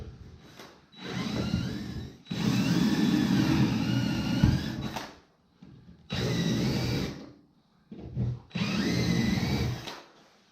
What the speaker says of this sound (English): Pull out your flange and drill your holes.